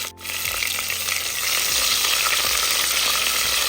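Small onions, some with skins on, sauté in a pan for a garlic gravy, a loud, steady sizzle that starts abruptly, with soft stirring scrapes underneath and no talk.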